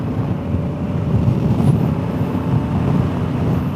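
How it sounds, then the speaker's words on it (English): Steady broadband wind roar buffeting the microphone while riding a Honda Africa Twin motorcycle at speed on a dual carriageway highway, with low engine and road rumble underneath, continuous and loud throughout. "There's the side wind."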